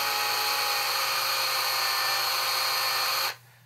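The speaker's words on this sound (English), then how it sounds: "get your power tools and just kind of drill in there" A power drill bores into a wine bottle cork with a steady, high-pitched whine that runs continuously for just over three seconds before stopping abruptly.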